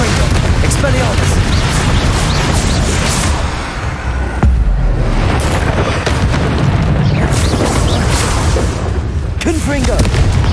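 Explosive spell blasts in the video game Hogwarts Legacy, heavy booming bursts that roll on continuously through a dense, loud battle mix with a voice calling out now and then.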